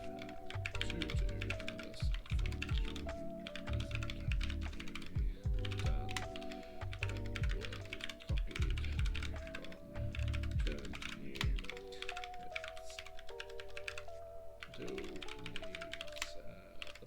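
Someone typing a code comment on a computer keyboard, a fast, close run of crisp key clicks with short pauses, over a faint steady hum, with no speech.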